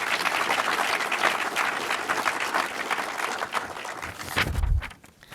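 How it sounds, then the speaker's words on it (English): Audience applause at a WalleyeTank competition event, a sustained dense clapping from a crowd lasting several seconds before tapering off abruptly near the end. "Can we give a big round of applause for Anders?"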